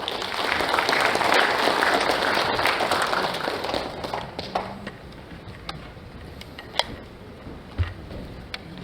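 Audience applause greets the mayor of Suncheon at the founding ceremony of a national bereaved families' association, loud and dense at first, then thinning to scattered claps after about four seconds.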